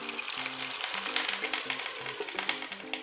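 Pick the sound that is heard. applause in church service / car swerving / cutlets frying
cutlets frying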